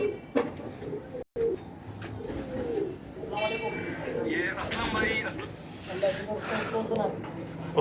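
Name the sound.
pigeons cooing on a rooftop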